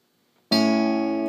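A single guitar second string plucked with the middle finger in fingerstyle playing, one clear note that starts sharply after a short silence and rings on steadily, close and alone.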